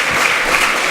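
Steady audience applause at a political conference fills the moment, a dense wash of clapping held at an even, loud level throughout with no voices on top.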